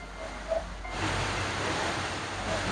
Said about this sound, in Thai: จากตรงนี้เราจะมองเห็นน้ำตกขนาดใหญ่